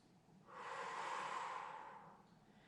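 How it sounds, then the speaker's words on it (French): A single slow, deep breath drawn in during a gentle Pilates exercise, a soft airy rush that swells for about a second and a half and fades, close and quiet, with no talking. "On inspire."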